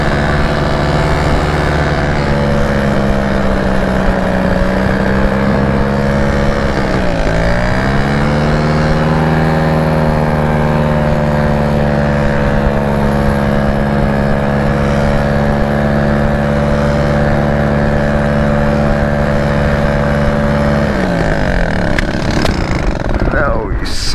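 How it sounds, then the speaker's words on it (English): Paramotor engine sputtering and cutting out in flight at about 1,500 feet, then restarting with one quick pull: a loud, steady droning hum that dips and wavers in pitch, then continues close and constant through to the end. "I get one quick start, just had a motor out. Got the motor back on."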